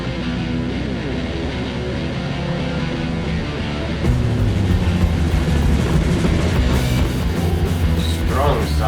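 A Carbon Cub light aircraft's engine throttling up for takeoff, a loud droning roar that jumps sharply in power partway through and then holds steady and close.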